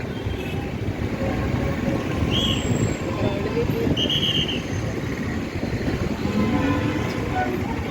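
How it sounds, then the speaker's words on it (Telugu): A passenger train ride, with a continuous loud rumble and rattle of the carriage that runs unbroken throughout, plus wind buffeting and a few faint squeals over it. "వావ్, భలే ఉంది ట్రైన్."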